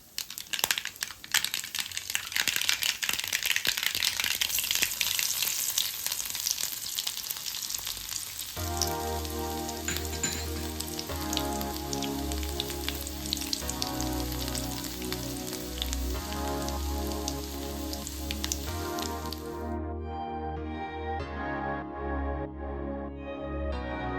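Mustard seeds and shallots fry in hot oil for a tuna curry, giving a busy, crackling hiss that carries on throughout while music later plays over it.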